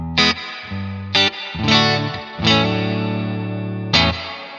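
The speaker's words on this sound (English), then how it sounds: "Next one we have is a spring reverb." An electric guitar played through the spring reverb of an IK Multimedia X-Space pedal: loud distorted chords struck about five times, each ringing out with a lingering reverb tail before the next.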